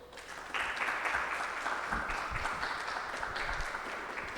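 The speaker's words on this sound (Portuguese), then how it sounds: "eu peço para ambos os aplausos de boas-vindas de todos nós que aqui estamos" An audience breaks into sustained applause to welcome two speakers at a literary event, a dense wash of clapping that starts abruptly and holds steady at moderate volume with no talk over it.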